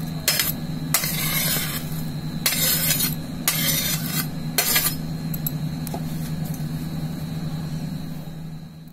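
Chopped pear dropped into yogurt and mixed with a spoon for raita, a series of sharp metallic clinks and taps against a bowl at irregular intervals over a steady background hum, close and alone.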